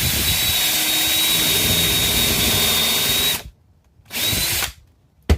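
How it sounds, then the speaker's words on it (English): A countersink drill bit bores into a sample piece of wood with a loud, steady high whine that cuts off, then a short second burst and a final brief blip. "We're going to drill on this sample piece of wood here."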